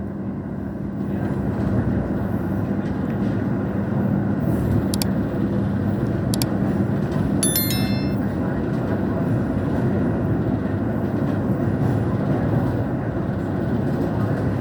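A continuous loud rumbling roar of the Kamandaka passenger train in Indonesia arriving at Maos station, steady throughout, with a few brief high squeals and tones near the middle.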